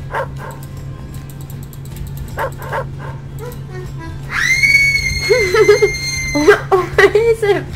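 Dog barks, yips and whimpers from a Roblox video game, starting partway through with a run of high, strained electronic-sounding cries and short whines over a steady low background hum.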